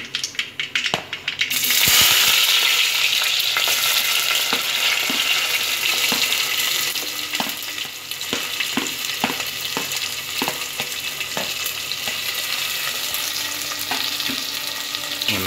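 Chopped onions sizzle loudly in a hot pan for a dried-fish curry after a short quiet start, with scattered clicks and scrapes of stirring throughout.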